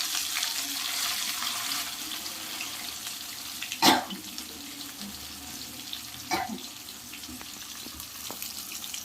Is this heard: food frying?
yes